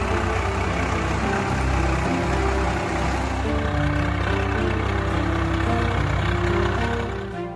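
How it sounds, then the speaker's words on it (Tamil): A tractor drives over an unsold watermelon crop in a farm field, its heavy diesel engine droning loud and close with a steady low rumble and slight surges in throttle throughout. "விவசாயிகள் தர்பூசணி பழங்களை வாங்க வியாபாரிகள் யாரும் வராததால் டிராக்டர் மூலம் ஓட்டி அழித்தனர்"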